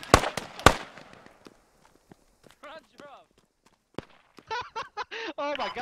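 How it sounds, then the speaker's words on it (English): Incoming gunfire in the game Squad, a few sharp close cracks at the start trailing into sparse distant pops, with voices talking in between. "I got incoming fire on me"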